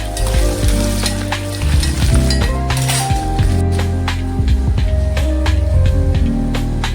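Ginger garlic paste and turmeric sizzle loudly in hot oil for a Maharashtrian dry mutton masala, with continuous frying crackle and repeated metal spoon scrapes and clinks as the mixture is stirred.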